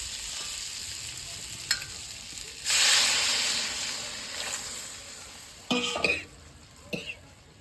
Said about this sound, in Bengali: বাটা মশলার সঙ্গে আলুটাকে ভালো করে কষিয়ে নিয়েছি এবার জল দিয়ে দেবো